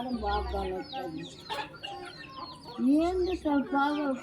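Chickens cluck and call repeatedly at close range, several birds overlapping with short squawks and a rooster-like note amid the flock.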